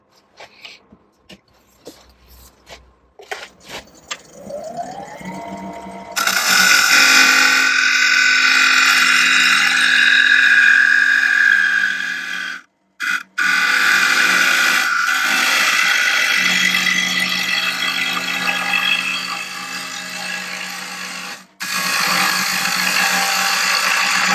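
A woodturning tool cuts and scrapes a wooden bowl on a lathe. The bowl is one of a nested set turned from a crotch piece of firewood. After a few faint knocks, a loud, steady cutting hiss runs continuously, broken by two brief pauses.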